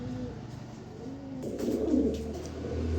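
A pair of Afshan Girijel pigeons coo softly and repeatedly close by, their low rolling calls swelling midway over a steady background hum.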